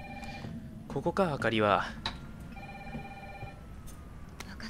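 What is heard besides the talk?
telephone ringing in video game Resident Evil 3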